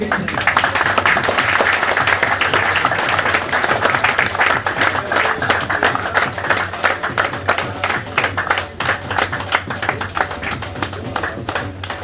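An audience at a cricket trophy event in Peterborough gives sustained applause, many hands clapping densely and steadily for several seconds, thinning slightly toward the end.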